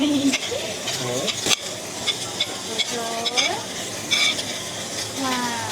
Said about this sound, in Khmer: បន្ទាប់ពីយើងឆាបន្លែឲ្យមានភាពទន់ល្មើយហើយយើងនឹងដាក់សាច់គោចូលតាមក្រោយ